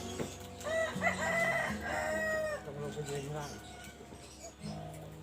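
A rooster crows loudly with a long, drawn-out call, and chickens cluck around it in a rural yard.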